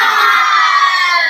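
Classroom of children chanting and shouting together in a 'tepuk semangat' clapping chant, loud and continuous, close by.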